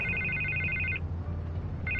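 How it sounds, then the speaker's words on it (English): A telephone bell rings in a long, steady trill, stops for nearly a second, then starts ringing again; it sounds close and clear over a low background hum, with no talking. "I can't get the phone to stop ringing."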